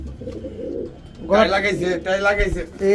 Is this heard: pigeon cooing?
yes